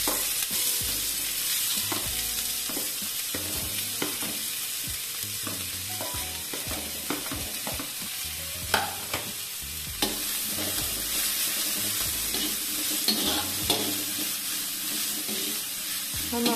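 Chopped onion goes into hot oil with ground coriander, cumin and fennel, sizzling steadily throughout while a spoon scrapes and stirs with irregular clatters, close and fairly loud, no talking.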